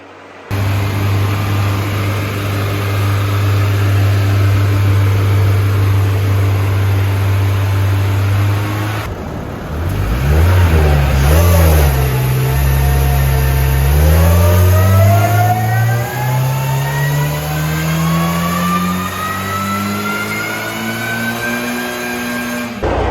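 Turbocharged Honda Civic Si held at a steady drone on a dyno, then revved hard through a long rising pull, loud and close, with no talk over it.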